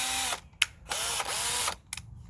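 A Worx power drill with a bit fitted whirs in several short bursts with brief gaps between them, close and fairly loud, with no one talking.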